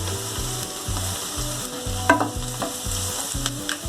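Onion frying in a pan for chicken curry, a steady sizzle with a spatula stirring and scraping in a regular rhythm, close and clear, with a few sharp clinks of the utensil against the pan.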